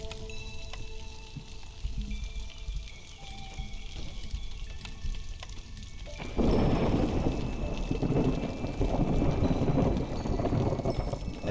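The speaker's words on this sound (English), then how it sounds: "And now that the storm's coming up" A thunderstorm arrives in the video game Against the Storm: quieter ambience with faint rumbling gives way to a sudden, loud burst of heavy rain and thunder that carries on steadily.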